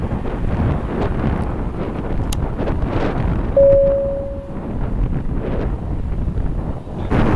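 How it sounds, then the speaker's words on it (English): Strong wind buffets the microphone at Cleveland Hopkins airport, a steady loud rumbling roar with gusty swells and no talking. "There's a really strong wind right now"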